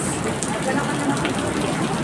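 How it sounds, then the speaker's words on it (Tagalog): Heavy rain from Typhoon Kristen pours steadily in a dense, even roar at a resort in Batangas, with a voice faintly underneath. "Lakas ang ulan."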